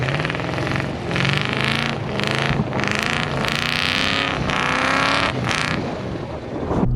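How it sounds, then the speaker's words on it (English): Jeep Gladiator fitted with a Flowmaster Super Outlaw catback exhaust, its engine revving loudly in repeated bursts that rise and fall, steady and close with no talking. "This is the Flowmaster Super Outlaw catback exhaust system"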